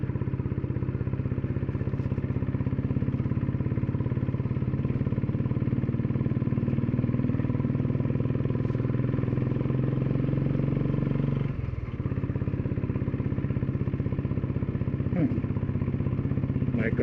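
Motorcycle engine with a complaining carburetor running steadily during a ride through the hills, a constant close drone with road and wind noise throughout, and a rider talking over it.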